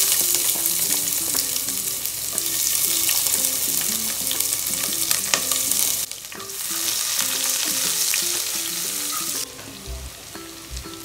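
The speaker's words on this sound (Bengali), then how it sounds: "এবার একটু কাঁচা পেঁয়াজ দিয়ে দিব।" Raw onion hits a hot pan of spiced oil for an egg curry, a loud continuous close sizzle and crackle with stirring scrapes, lasting throughout with a brief change in tone partway.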